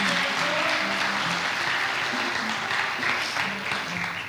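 Steady applause fills a formal school assembly hall, a large audience clapping continuously and fairly loud throughout, with no speech over it.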